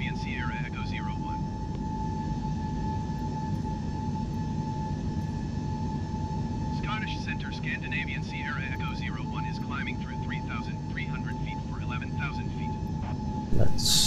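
Airbus A320neo jet engines at climb thrust in the Microsoft Flight Simulator video game give a steady, loud broadband drone from start to finish, with a voice speaking over it in the middle section.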